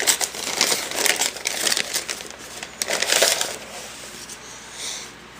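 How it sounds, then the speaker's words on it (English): Grease paper being unwrapped from stacked surplus .308 rifle magazines, giving loud, close crinkling and crumpling in uneven bursts that ease off toward the end. "Kind of wrapped in this grease paper."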